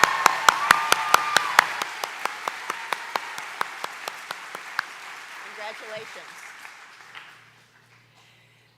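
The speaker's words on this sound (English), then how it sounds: "Please give them a round of applause." Applause at a university graduate commencement ceremony, with a close, rhythmic single clapper standing out over a broad crowd clapping that gradually fades over several seconds, while a voice speaks briefly near the start.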